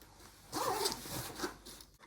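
A zipper on the fabric of a Joolz Aer 2 stroller nest is pulled open in one close, quiet, scratchy run of about a second and a half, with no talking.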